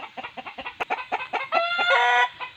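Chickens cluck in a quick run of short, clipped notes, then one bird lets out a longer, drawn-out squawk before the clucking resumes.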